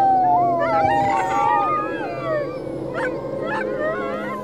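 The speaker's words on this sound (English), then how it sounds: "Slowly, more and more dogs wake up, and the sound, it's getting louder, and it's like a choir." Many sled dogs in Arctic Greenland howling together like a choir, overlapping long wavering howls with higher yips and whimpers rising through a dense, continuous chorus, close and loud.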